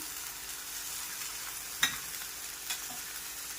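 Capsicum fries gently in melted butter with ginger garlic paste, a faint steady sizzle with a couple of brief utensil clicks against the pan, and no talking.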